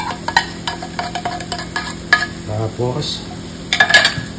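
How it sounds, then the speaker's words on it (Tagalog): A spoon stirs all-purpose cream into a simmering shrimp penne pasta sauce in a pan, with close, repeated scraping and a soft bubbling sizzle. A voice speaks briefly over it. "haluin natin yan para mag-mix"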